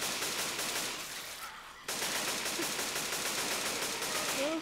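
Rapid AK rifle fire from a video game rattles in continuous bursts with a brief gap near the start, fairly quiet and steady, close and unbroken by talk.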